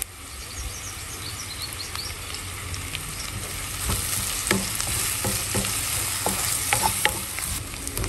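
Onion, slit green chilies and curry leaves sauté in a pan for a black pomfret dish, a close, continuous sizzle with frequent spoon scrapes and faint birdsong in the background.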